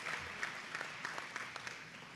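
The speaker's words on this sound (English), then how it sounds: "Give that a round of applause there." Audience at a STEAM certification ceremony in Nettleton giving a round of applause, a fairly faint, even patter of many hands clapping with no voices over it.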